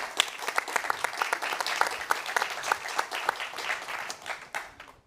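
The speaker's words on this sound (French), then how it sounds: "On peut les applaudir." An audience at a startup accelerator programme presentation applauds two guests, dense lively clapping from many hands, fairly close and even in level, tapering off at the end.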